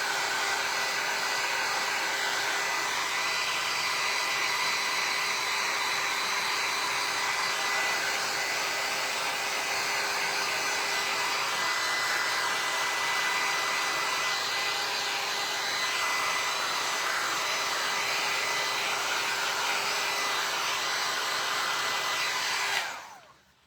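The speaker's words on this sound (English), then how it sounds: "now I make sure my heat tool doesn't burn my countertops" A heat tool blows continuously while drying chalk paint on a thrifted piece, a loud steady whooshing roar up close that cuts off at the very end.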